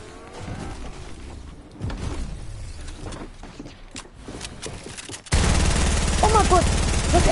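Rapid submachine-gun bursts from a first-person shooter match, sharp and loud, with a burst of sustained automatic fire near the end, mixed with excited players talking over game sounds.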